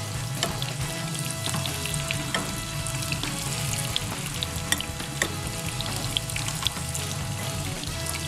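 Garlic shrimp sauce in hot oil comes to a boil in a pan for an Asian-style garlic and chili dish, giving a steady, close bubbling sizzle with scattered pops and crackles and no talking.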